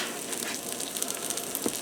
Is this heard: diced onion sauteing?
yes